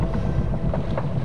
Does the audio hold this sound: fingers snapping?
no